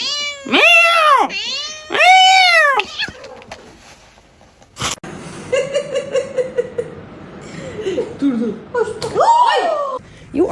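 An angry cat meows and yowls in long, rising and falling wails, loud and close, with a sharp knock midway and a person talking in between the cries.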